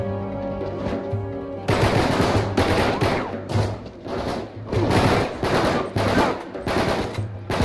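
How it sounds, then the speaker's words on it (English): Rapid automatic gunfire from the Uncharted 3 video game, with loud, dense bursts of machine-gun shots and a few thumps that continue steadily for several seconds after a quieter opening. "who's shooting at me with something intense?"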